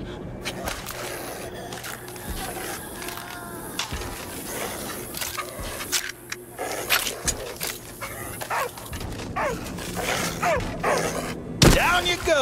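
A dog in the zombie shooter Arizona Sunshine 2 gives several whimpers and short barks, with whines rising and falling among game sounds, footsteps and clatter; a voice is heard at times.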